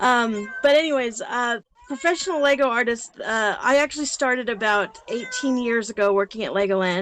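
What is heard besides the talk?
cat crying and meowing in the background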